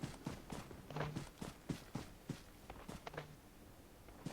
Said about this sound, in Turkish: Aha ayak sesi aldım